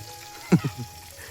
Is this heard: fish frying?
yes